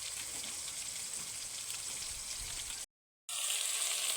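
Water poured into a pan of chilli Maggi gravy gives a soft, steady hiss and trickle, close but faint, cut by a brief silence before resuming.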